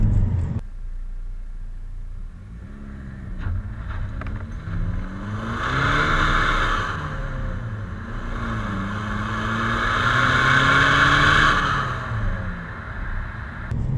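A BMW E46 320D diesel car accelerates from inside the cabin, its engine note rising in two long swells of revving over a steady low road rumble.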